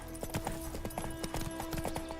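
Hooves of Roach, Geralt's horse in The Witcher 3, clip-clopping in a brisk, steady trot, the beats close and clear over a low game backdrop.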